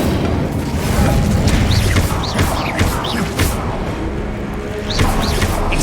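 An Incendio fire spell unleashed in a Hogwarts Legacy fight, loud crackling bursts and whooshing flares over busy mechanical clatter and thuds of combat, continuous and dense throughout.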